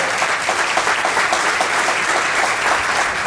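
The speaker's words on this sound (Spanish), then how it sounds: "Un aplauso para los dos." An audience applauds two veterans of the 1982 Malvinas war, a steady, close and fairly loud burst of many hands clapping without a break.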